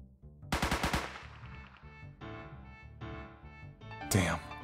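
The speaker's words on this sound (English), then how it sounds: "I heard gunshots." Gunfire in an RPG Maker adventure game: a rapid burst of several sharp shots close together, followed by softer echoing bangs and a final loud crack over a droning game soundtrack.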